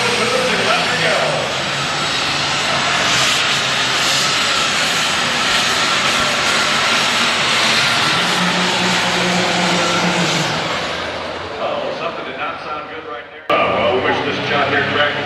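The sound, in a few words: super stock pulling tractor engine roaring at tractor pull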